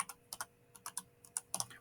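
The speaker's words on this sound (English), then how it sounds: "I'm going to go ahead and type in that first word, protect" Fingers type on a computer keyboard in quick, irregular clicks, close and fairly quiet, with no speech.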